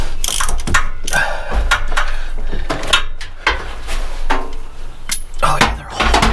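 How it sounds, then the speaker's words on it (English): A ratchet works spark plugs out of a neglected, long-forgotten engine that won't run, with rapid clicking bursts, metallic clanks and tool handling close by in a busy, uneven rhythm. "so we're pulling all the plugs now"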